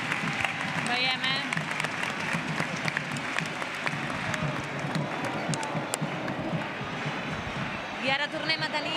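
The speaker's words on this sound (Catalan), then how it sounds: "Aplaudiment als músics." Outdoor crowd applauding musicians during a festive procession in Reus, a steady wash of clapping with scattered cheers and voices mixed in, sustained throughout.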